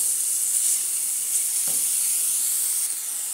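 Garlic frying in a pan with softened onion, giving off a steady, close, even sizzling hiss that holds at a constant level throughout, with no voices.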